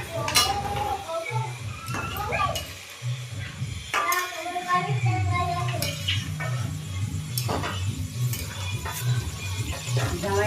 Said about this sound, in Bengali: এই দেখো আমার বাপি রান্না করছে।